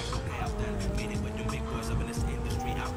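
Turismo sports car driven in GTA Online, engine and road noise with tire squeal running under continuous talk, a game soundtrack mixed in.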